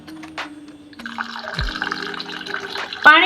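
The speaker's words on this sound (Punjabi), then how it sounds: "ਮੈਂ ਥੋੜਾ ਜਿਹਾ ਇਹਦੇ ਵਿੱਚ ਗਰਮ ਪਾਣੀ ਪਾ ਦਾਂਗੀ" Hot water pours steadily into a pot of thick moth dal, a short gurgling stream with a few splashes and clinks.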